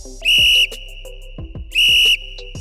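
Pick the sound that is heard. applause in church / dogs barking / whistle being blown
whistle being blown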